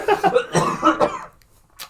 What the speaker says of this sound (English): Sorry, I'm having a cough fit.